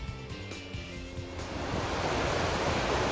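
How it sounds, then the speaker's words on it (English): Glacial meltwater stream roaring off a glacier on the Haute Route, a loud, steady rushing torrent that builds into a dense, continuous roar, with no talking. "Water's coming roaring off the glacier there."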